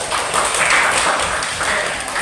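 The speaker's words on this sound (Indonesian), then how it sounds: "tepuk tangan semuanya" Indonesian classroom group applauding together, a steady dense wash of hand clapping from many people, loud and continuous for about two seconds, with no talking.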